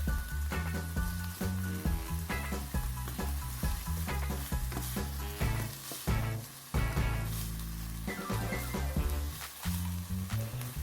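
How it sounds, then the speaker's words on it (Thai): Minced pork stir-fried with southern Thai curry paste from Trang, a steady loud sizzle with constant scraping and clattering of a spatula against the pan, close and continuous, no voices. "คั่วให้หอมพริกแกงออกมาเลยนะครับ แล้วก็ ให้เนื้อหมูสับกับพริกแกงเนี่ย ผสมผสานกันเลยครับ"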